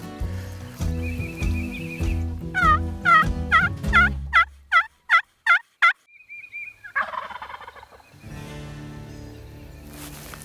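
A wild tom turkey gobbles in a rapid rattling burst, then a run of sharp repeated yelps, amid distant background noise outdoors.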